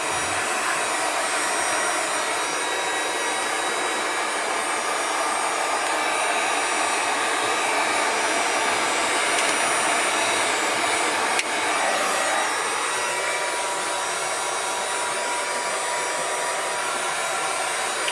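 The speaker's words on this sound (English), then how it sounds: "a hot air gun that we have here. I've got it on low" A hot air gun set on low heat blows steadily while shrinking the covering on a Fokker DR1 RC model, a loud continuous fan hiss with a faint rubbing touch near the end.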